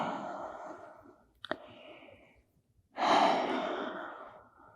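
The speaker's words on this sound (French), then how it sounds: "Encore 1 ou 2 respirations ici" Deep breaths during a vinyasa yoga flow, a long airy exhale that fades out, a brief click, then a strong drawn breath that trails off, close and unaccompanied by talk.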